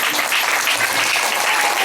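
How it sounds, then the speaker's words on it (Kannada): Church congregation clapping loudly during a sermon, a dense, sustained patter of many hands that stays steady and close throughout. "ನಿದ್ದೆ ಮಾಡೋರೆಲ್ಲರೂ ಗಟ್ಟಿಯಾಗಿ ಚಪ್ಪಾಳೆ ತಡ್ರಿ ಒಂದು ಸಮಯ"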